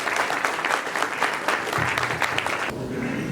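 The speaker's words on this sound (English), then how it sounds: "How about a round of applause for these five candidates, please?" An audience at a county candidates night forum applauds five candidates, a full, even burst of clapping that cuts off abruptly near the end as a voice begins.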